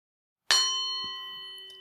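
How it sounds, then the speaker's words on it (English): A meditation bell struck once during a guided session, a clear bright ding with a long, slowly fading ring that hangs in near silence. "And now as the bell rings, gently finding the breath within the body"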